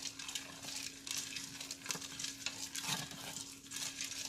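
A spoon stirs a plant-based enchilada filling seasoned with bell peppers and green onions, cooking in a pan with a steady soft sizzle and scraping strokes close by, no talk over it.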